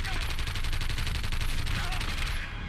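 Sustained rapid gunfire from a television drama fills the whole stretch, a dense, loud fusillade of overlapping shots that cuts off abruptly at the end.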